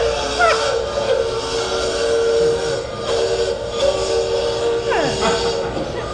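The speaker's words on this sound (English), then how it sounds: "That sounds like a locomotive barreling across the tracks in this countryside." A locomotive barrels along railway tracks through open countryside, a steady rumbling drone threaded with sustained whistle-like tones that waver and bend, moderately loud throughout with no clear talk.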